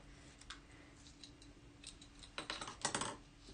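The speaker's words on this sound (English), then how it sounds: "cut that off with my snips." Snips cut through material during card making with gilded leafing, giving a few quiet clicks and then a tighter burst of sharp, close snipping crunches toward the end.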